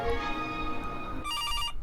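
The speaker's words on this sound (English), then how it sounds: "Oh, there's the phone call." A telephone rings in the game Beyond Your Window, a bright, close electronic ring sounding alone for under two seconds with no talking.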